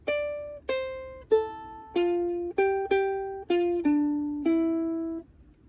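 Ukulele plucks a syncopated melody from Al Hanissim, eight clear single notes in an off-beat rhythm, each ringing and decaying quickly, close and alone.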